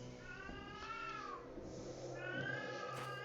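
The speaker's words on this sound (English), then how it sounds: "I hear a cat." Meowing cat inside a video game, set in lower sewers, with several drawn-out unhappy yowls over a steady low game hum, moderately loud and close, with no talking.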